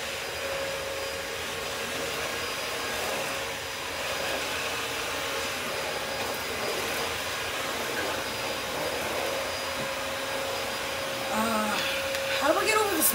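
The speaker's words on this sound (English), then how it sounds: "Sorry if you hear a vacuum," A household vacuum cleaner runs continuously nearby as a steady, droning roar, with faint sounds over it near the end.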